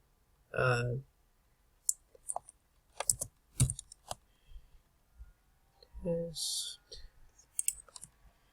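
Typing on a computer keyboard while setting up a domain, scattered bursts of close clicking keystrokes broken by short stretches of someone speaking.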